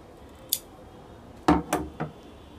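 Scissors snip crochet yarn: a faint single snip, then three quick, close metallic cuts in a row on a quiet background.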